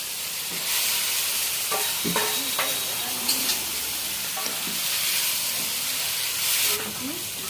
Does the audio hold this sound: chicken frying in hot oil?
yes